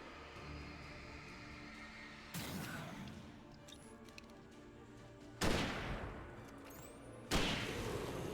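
Gunshots in Alan Wake: three loud, sharp blasts spaced a few seconds apart, each ringing out with a fading tail over a quiet, eerie background.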